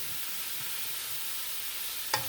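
A lentil, potato and spinach soup mixture sautéing in a pot, a quiet steady sizzle with a faint stir and one brief clink of a utensil near the end.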